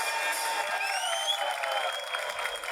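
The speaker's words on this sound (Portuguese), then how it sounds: "E aquelas palmas geral." A crowd applauds and cheers at a rap battle in a dense, steady wash of clapping, with a few thin whistle-like tones riding over it.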